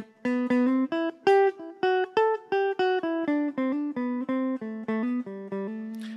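A plucked McCafferty-Seifert dulcimer through a magnetic pickup turned all the way up, bright and electric-sounding, picks a quick steady melody of crisp repeated notes, each with a sharp attack and short ring.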